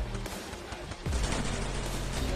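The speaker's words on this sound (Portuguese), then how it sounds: "Um tiro leve." A burst of sharp gunfire cracks out, followed by a loud low boom that lingers over dense noisy background.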